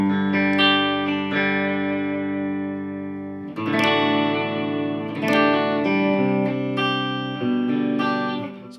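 A Fender Noir Jazzmaster electric guitar played with a distorted tone, sustained chords ringing out with fresh strums at several points, loud and alone with a touch of reverb.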